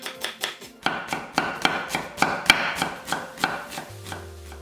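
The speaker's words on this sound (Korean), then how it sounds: "양파 3분의 1개는 살짝 굵게 채 썰어" A kitchen knife slices a third of an onion into thick julienne strips on a cutting board, giving a quick, steady run of crisp, close chopping taps with no voices.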